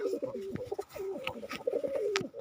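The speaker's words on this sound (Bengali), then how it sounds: "এটা হলো কোকিল কবুতরের বাচ্চা হয়েছে" Pigeons cooing in soft, rolling throaty bursts, several overlapping calls close by, with a few faint rustles between them.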